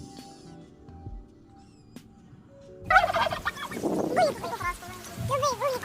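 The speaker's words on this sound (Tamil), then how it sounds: "வான்கோழி பயங்கர சத்தமாக கத்தும்." Turkey gobbling loudly and close, a burst of rapid warbling, gurgling calls that starts abruptly after a quiet stretch and continues in rippling bursts to the end.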